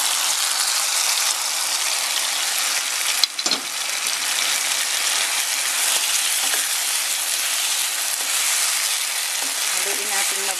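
Corned beef going into a pan of cooked tomatoes and frying, a loud, steady, close sizzle that holds unbroken throughout, with a brief clatter partway through.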